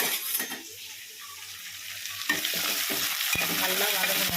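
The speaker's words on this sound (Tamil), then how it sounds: "இப்போ வந்து கரண்டி எடுத்து வதக்கிட்டு" Sliced onions sauté in a pan and a ladle stirs them, giving a soft sizzle with scraping strokes that grow louder and busier partway through.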